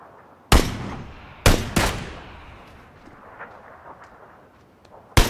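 Gunfire in the PUBG video game: four sharp, loud shots with echoing tails, two close together near the start and another single crack at the end, no talking.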